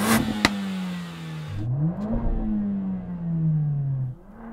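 A sporty car engine revs up and settles in a drawn-out, gliding note with a sharp crack near the start and a couple of pops as the revs fall, heard close with no voices.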